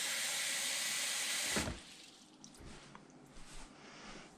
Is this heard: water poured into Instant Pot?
yes